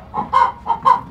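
Two chickens at a farm give a few short, close clucks in quick succession, with no other sounds around them.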